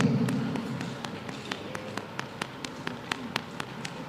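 A gathered crowd taps single fingers on their palms to mimic light rain at a Janmashtami program, a sparse scatter of soft, sharp ticks over a low murmur of room sound.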